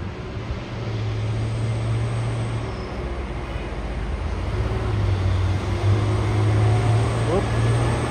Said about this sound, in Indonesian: Trailer tangki panjang bosku, tangki Hercules. dan tronton Nino Jember.